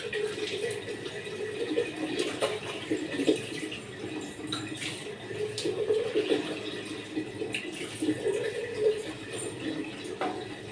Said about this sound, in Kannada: ಇವಾಗ ನಾನು ಫೇಸ್ ಪ್ಯಾಕ್ನ ಫುಲ್ ಕ್ಲಿಯರಾಗಿ ವಾಶ್ ಮಾಡ್ತೀನಿ